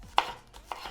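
Two sharp knife chops through green onion on a cutting board, close and distinct, about half a second apart, with no voices.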